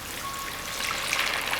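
Warm water is poured over dry ice in a party decoration setup. It makes a steady, close hissing and bubbling with a dense, fizzy wash of sound.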